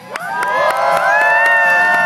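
A lively crowd at a BMX bike stunt show at the Texas State Fair cheers and shouts loudly, high voices and whoops rising steadily over a couple of seconds.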